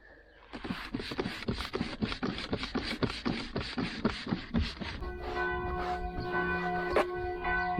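A set of church bells peals in a rapid, repeated rhythm of loud strikes, then settles into a sustained, ringing cluster of overlapping tones that hums on near and steady without any voices.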